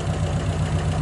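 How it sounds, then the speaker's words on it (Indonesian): A car engine runs in short revs while someone watches the tailpipe for exhaust smoke, a steady low rumble close to the microphone with no talk. "itu kita gas-gas sambil yang belakang kita lihatin ada keluar asap atau enggak"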